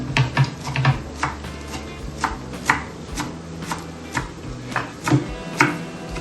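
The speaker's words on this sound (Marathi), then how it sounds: "आता यामध्ये फ्रेश कोरिएंडर, कोथिंबीर ती कट करून घ्यायची." A knife chops fresh coriander leaves on a board, giving a series of sharp, close, irregular taps with short pauses between bursts, and no talking.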